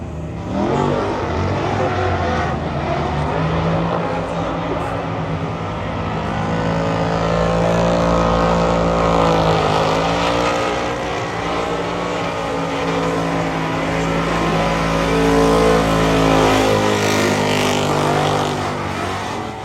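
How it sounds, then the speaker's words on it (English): Drift cars racing on a drift track at a Ford festival, with loud, continuous engine roar and revving that swells and falls across the whole stretch, under a faint voice. "the drift cars are just faster on the drift track, and it's impressive all the way around"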